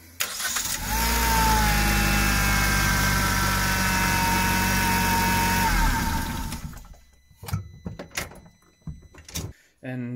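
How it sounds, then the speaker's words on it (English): A Suzuki Swift Hybrid 1.2 engine starts and idles steadily for about five seconds at close range, then shuts off, followed by scattered clunks and handling noises. "we are going to actually start the engine for a few seconds in order to empty all the tubes and all the filters"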